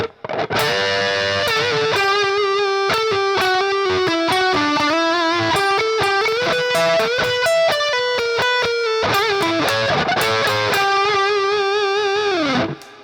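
A distorted electric guitar plays a section of a solo, sustained bent notes and quick runs, loud and continuous with effects, ending on a held note.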